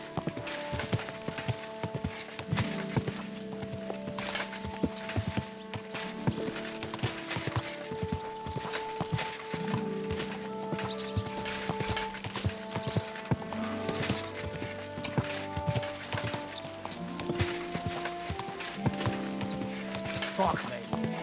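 Horse hooves clip-clop steadily in Kingdom Come Deliverance II, a repeated close walking rhythm that runs under a layer of sustained music and occasional voices.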